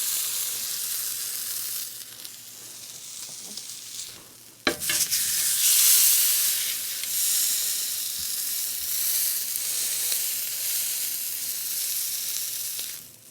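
A bone-in piece of meat hits a hot pan and sears with a sharp burst, settling into a loud, steady close sizzle that hisses on throughout.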